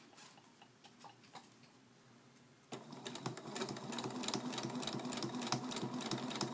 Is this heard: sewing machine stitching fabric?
yes